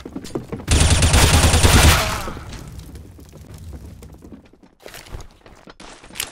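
A burst of rapid automatic gunfire in the video game CS:GO, loud and close for about a second, followed by quieter footsteps and scattered thuds.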